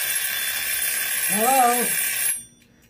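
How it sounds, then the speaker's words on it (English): An electronic kitchen-style timer beeps steadily in an office, a loud, close, continuous tone that cuts off abruptly near the end, while a voice speaks briefly over it. "That's the timer."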